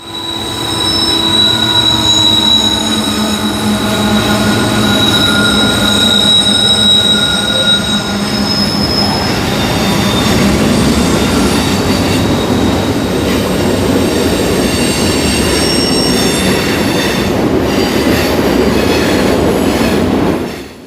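A freight train climbs a 1.4% grade, rumbling steadily and loudly, its wheels squealing on the rails with sustained metallic tones over a constant heavy roar throughout.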